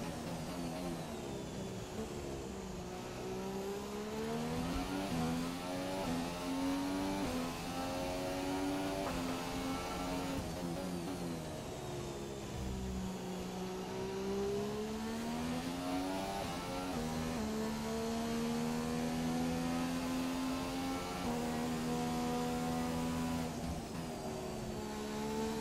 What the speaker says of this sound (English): We just go full throttle.